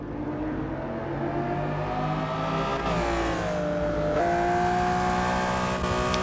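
Steady race car engine drone at Brands Hatch in a racing video game, a loud continuous whine with shifting pitch as the car accelerates and changes gear, with no talk.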